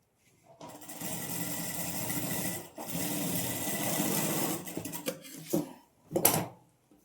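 A sewing machine runs in bursts while stitching the neckline of a kurti, a steady close motor whir with brief stops and restarts, then a couple of short handling knocks at the end.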